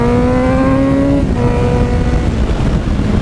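A Yamaha FZ6R motorcycle accelerates hard with clutchless shifting, its engine note climbing loudly then dropping at a quick gear change before pulling again, with strong wind rush over it.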